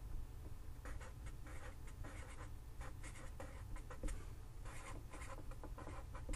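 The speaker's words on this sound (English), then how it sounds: "I'm going to write an interval notation." Marker or chalk strokes on a board during a college algebra lesson, a steady run of short scratchy taps and squeaks at close range, fairly quiet with no talking.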